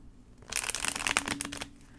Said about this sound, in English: All right, one more shuffle. One more.